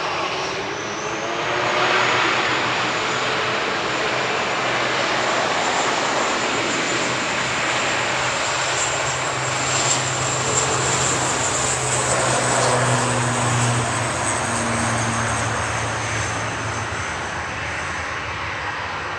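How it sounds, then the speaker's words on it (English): An Aer Lingus Regional ATR 72-600 turboprop departing Manchester for Dublin swells into a loud propeller and engine roar, with a high whine and a deep throbbing hum lasting the full run, no speech. "Lingus Regional departing to Dublin there, EIFSL, ATR 72-600 with flight 3327."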